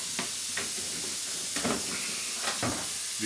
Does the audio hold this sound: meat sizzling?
yes